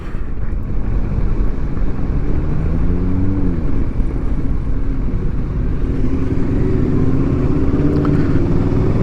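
A Kawasaki Versys 650 motorcycle hums along through turns, its engine drone rising and falling in pitch under steady wind rush, close and continuous with no voices.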